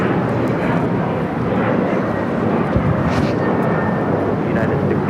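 A United Airlines Boeing 737-900ER taking off at LAX, a broad, loud jet roar that holds steady throughout, with people talking over it.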